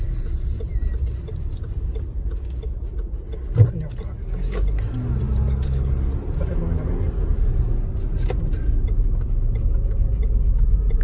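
A bus rumbles past nearby over steady street traffic noise in Germany, with faint voices in the background.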